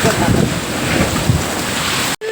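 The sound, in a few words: strong wind during storm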